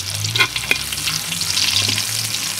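Garlic sizzling in hot oil in a pan for duck adobo cooked in coconut milk with pineapple, a loud close crackling fry with a couple of stirring clinks and no voices.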